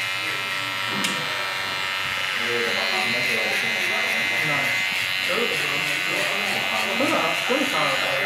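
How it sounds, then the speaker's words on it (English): An electric hair trimmer buzzes steadily and close up during a barbershop skin fade, its hum continuous while a person talks over it. "I'll just take my wall detailer, just a trimmer"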